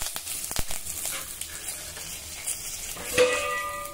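Mustard seeds, cumin, crushed cloves and curry leaves crackle in hot oil, a close steady sizzle punctuated by a few sharp pops and a spatter burst near the end.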